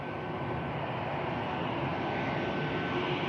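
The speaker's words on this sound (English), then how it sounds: "there's the Malta Air heading out to Limoges" A Malta Air jet departs Manchester Airport for Limoges on a rainy, cloudy day, its broad engine roar steady and fairly distant, slowly building with no talking.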